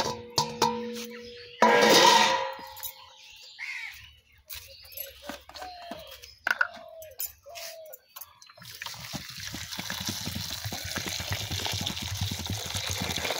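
Dheki greens washed in a large basin of water, with sloshing and splashing that turns to a steady running pour in the second half, and brief voices talking early on.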